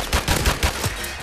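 Rapid automatic gunfire in the video game Call of Duty Modern Warfare Remastered, a burst of close, punchy shots in a quick irregular rhythm with no talking.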